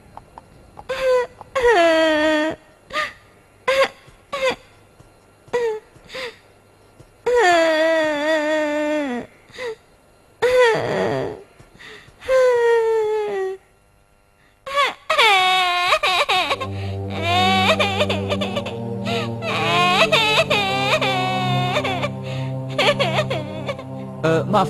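A cartoon character cries in a series of wailing sobs broken by short pauses, loud and close, before music swells in for the final stretch.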